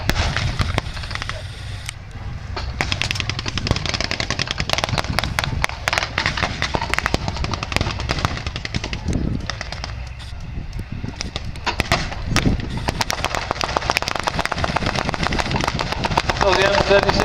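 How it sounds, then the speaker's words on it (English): Machine gun fire and grenades from an M36 at a Yorkshire wartime battle reenactment: loud, dense bursts of sharp cracks and bangs across the whole stretch, with talk over them. "So the M36 is using machine guns to attack the trenches."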